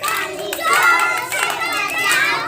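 Young children at an anganwadi childcare centre clap their hands during a movement game. A few sharp claps cut through the children's loud chanting voices.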